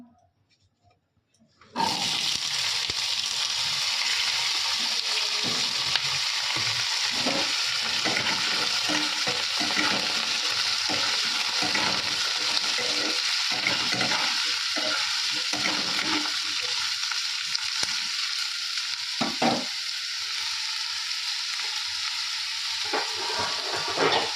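Loud, steady frying sizzle of potato curry fills the pan after a brief silent start, with scraping stirring strokes breaking through the hiss throughout.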